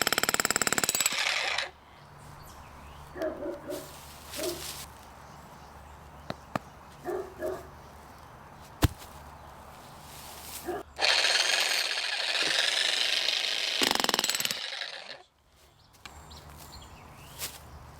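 A cheap jackhammer with a pointed chisel breaks garden-walkway flagstone in two loud bursts of hammering, the first at the opening and a longer one later on, with quieter gaps and scattered knocks between them.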